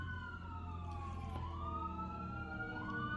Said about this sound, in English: Fittingly, you can hear the sirens in the background.